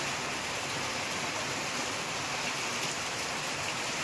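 Rain falls continuously in a soft, even hiss, moderately distant and unbroken, with no talking.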